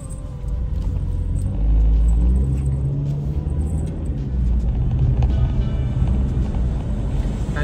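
Steady low rumble inside a moving car, road and engine noise droning evenly throughout without a break, loud and close, with no talking.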